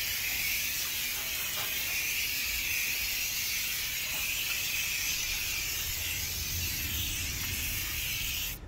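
Water sprays hard over BBS LM wheels caked with brake dust, making a steady, loud, close hiss that keeps up without a break.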